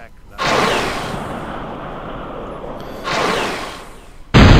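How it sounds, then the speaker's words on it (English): A fortress opens fire on an enemy unit in the Star Wars: Galactic Battlegrounds strategy game, two loud booming bursts of cannon fire with a sharp blast cutting in at the end. "Whoa, Fortress is shooting at that guy."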